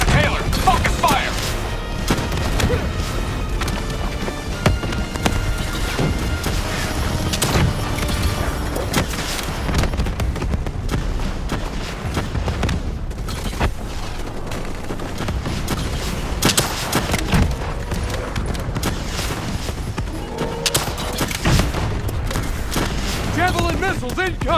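Call of Duty Black Ops 3 battle with dense, continuous gunfire and booming explosions, loud and close throughout, while game voices shout under the combat.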